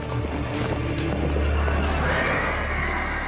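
A horse whinnies loudly over a dense, steady background of rumble and wind-like noise, with a faint clip-clop of hooves, sounding like a dramatic battle scene in a military history documentary about cavalry charges.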